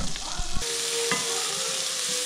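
Shallot and garlic hit melted butter in a pan and break into a loud, steady sizzle with a dense, even hiss, after a few soft knocks at the start.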